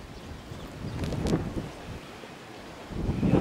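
Wind gusts outdoors in a village, where a wool quilt is being made, rushing and buffeting the microphone in uneven surges that rise toward the end, with no talk.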